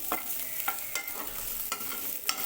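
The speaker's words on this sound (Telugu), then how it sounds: "ఇలా చిన్న మంట మీద ఇలా కలుపుతూ ఫ్రై చేసుకోవాలి" Paneer frying in ghee in a kadai over a low flame for spicy paneer tikka fry, stirred with a spoon that scrapes and knocks the pan every half second or so over a soft, steady sizzle, close up, with no voices.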